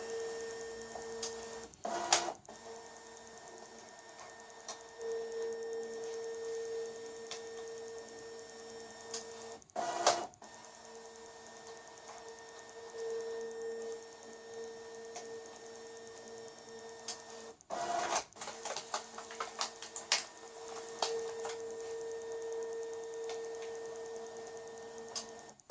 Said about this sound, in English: it'll just go ahead and drag those through like any other document feeder